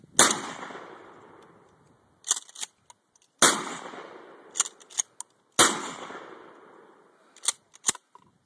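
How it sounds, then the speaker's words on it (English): Three sharp gunshots ring out outdoors at target jugs, each followed by a decaying echo, with small clattering impacts and handling noises in between; loud and close, no talking. "So, I guess we'll be shooting at these jugs out here."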